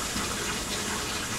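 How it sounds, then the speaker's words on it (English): Steady rush of fresh water pouring from a Python hose into an aquarium tank, a continuous close gushing flow with no talk. "And we are gonna get fresh water"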